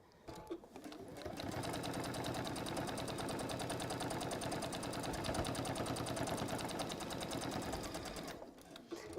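A sewing machine runs steadily, stitching straight along a zip for about eight seconds, a fast even mechanical whir with dense needle rhythm, close and loud, stopping near the end.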